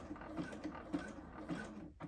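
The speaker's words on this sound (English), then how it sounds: "So I just do that a couple times and then I'm going to sew forward all the way until the end." A sewing machine backstitches to lock the stitches on a tote bag made from an old T-shirt, making a quiet, rapid mechanical chatter with a regular rhythm that stops near the end.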